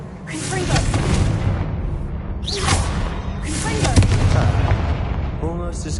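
Repeated Confringo spell explosions from Hogwarts Legacy give loud fiery blasts at about one-second intervals, booming impacts with crackling tails, surrounded by dense game effects.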